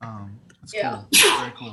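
One sharp, loud sneeze bursts out amid casual conversation, close up, with people talking just before it.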